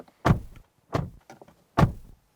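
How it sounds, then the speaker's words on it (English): Car doors on a Hyundai Tucson hybrid are shut three times in succession, each a close, solid thunk separated by brief silence, with no talking. "And our door slam, here we go."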